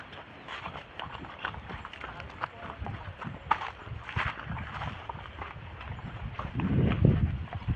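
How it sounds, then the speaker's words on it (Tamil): Horse hooves clip-clop on the ground at a horse market in Tamil Nadu selling horses from North India, a steady uneven patter close by with voices murmuring in the background. "சரி வாங்க அப்படியே அடுத்து இங்கே ஒரு குதிரை ஒன்று இருக்குது"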